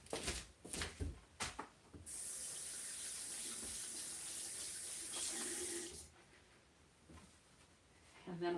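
A tap runs into a sink while a palette knife is rinsed under it, a steady hiss of water for about four seconds after some clattering, then cut off, leaving quiet handling noises.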